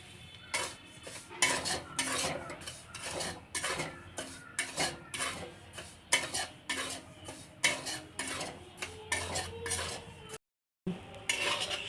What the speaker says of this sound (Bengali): কড়াইতে সুজিগুলো আমি ভেজে নেব।